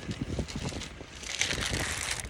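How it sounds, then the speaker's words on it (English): Ice pours and clatters into a cold plunge tub in a rapid crunching, rattling rush, close and fairly quiet, with some windy rustle over it. "So why I'm pouring ice into it is because"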